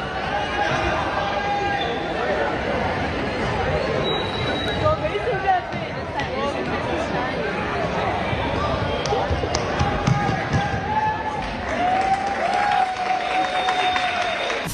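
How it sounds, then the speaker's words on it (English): Students in a classroom clap for a classmate, scattered applause mixed with crowd chatter and loud talking throughout, with thumping bounces heard in the room. "you gotta give props to his classmates for clapping for this guy"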